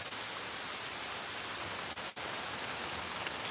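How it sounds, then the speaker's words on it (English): Steady late-night rain falls on surfaces, a dense even patter with no breaks and one brief dip near the middle, heard alone with no voices. "Let that rain hit you."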